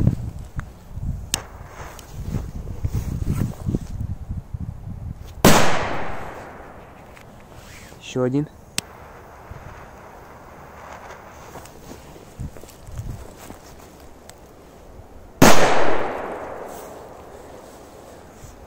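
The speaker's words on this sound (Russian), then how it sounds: "Так, есть у нас еще тут вот такие петарды, треугольнички." Small triangle-shaped firecrackers go off outdoors. Two sharp, loud bangs ring out about ten seconds apart, with rustling, footsteps and a brief voice in between.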